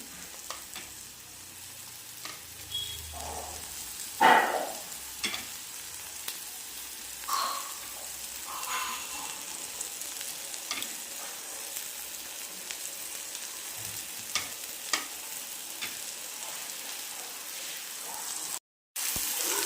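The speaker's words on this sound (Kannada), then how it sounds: "ಈಗ ಇದಕ್ಕೆ ಕಟ್ ಮಾಡಿಟ್ಕೊಂಡಿರೋ ಮೊಟ್ಟೆನ ಹಾಕ್ತಾಯಿದ್ದೀನಿ." Chopped boiled eggs sizzle and fry in a masala with sambar greens in a pan, with a steady close crackle and a few stirring scrapes throughout, and no talking.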